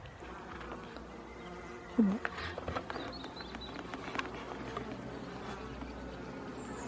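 A dense, steady buzzing of many honeybees from an opened octagonal hive fills the clip, close by, with light tapping and a brief short remark from a person partway through.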